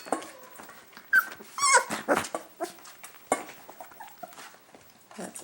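Young puppies in a pen yelp, whimper and growl softly in short, overlapping bursts, close by and fairly quiet, with light pattering movement between cries.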